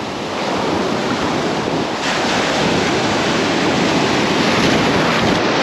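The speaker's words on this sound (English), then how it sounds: "Getting hammered by these waves." Loud, continuous surf pounding the shore beneath a public beach fishing pier, a steady broadband roar of breaking waves with wind buffeting the microphone throughout.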